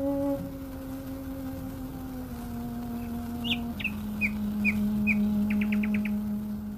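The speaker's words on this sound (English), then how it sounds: "she often found that nightingales would sing as she played" A nightingale sings in a garden in Oxted, Surrey, as bright, clear chirps and a quick trill rise over long, sustained instrumental notes.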